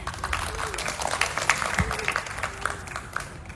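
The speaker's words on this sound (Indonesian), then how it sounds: "Oke, boleh tepuk tangannya?" Applause from an audience of media guests at an Indonesian series press event, moderate clapping running throughout with a few voices murmuring over it.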